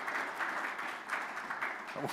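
Audience applause in a hall, a short steady wash of clapping at moderate distance with voices mixed in.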